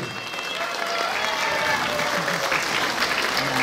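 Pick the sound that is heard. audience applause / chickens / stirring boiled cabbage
audience applause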